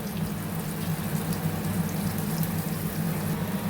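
Boorelu, sweet-filled dumplings, are deep-frying in hot oil with a dense, even, close-up sizzle and crackle that holds steady throughout.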